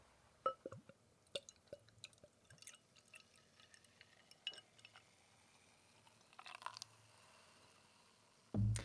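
Hertog Jan Pilsener beer is poured into a glass, with soft trickles, faint drips and small glassy clinks over quiet room tone, followed by a sudden low thump at the end.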